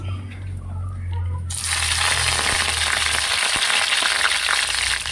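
Oil sizzles loudly as sliced green chillies hit the pan, a sudden hiss that surges in and holds steady, close and continuous.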